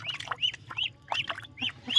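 Chickens cluck in quick, agitated bursts during a chase, several short calls in a row at moderate distance, with no speech over them.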